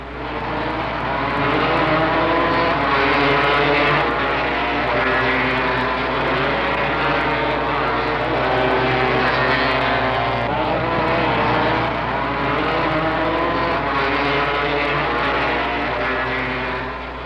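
1971 Yamaha motorcycles race on a dirt track, their engines wailing loud and unbroken throughout, with overlapping tones rising and falling as the riders fight for the lead.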